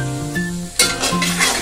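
Chili sauce and tomato sauce are stirred into hot oil in a frying pan for a shrimp and pineapple sambal. A close, brief scrape of stirring comes over a bright sizzle.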